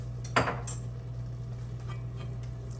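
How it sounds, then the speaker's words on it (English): A spoon clinks and scrapes against a pot as brown sugar is stirred into pulled pork, with a few quick knocks at the start and then a quiet low hum, near and brief. "So we're gonna get this all stirred up and let it cook for a little while."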